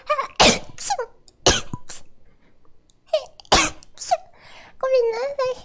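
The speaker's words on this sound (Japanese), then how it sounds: "あ、くしゃみでさ、くしゃみ。" Several sharp, explosive bursts of a sneeze-like sound come in quick succession, with breathy gasps between them and a voice speaking briefly near the end.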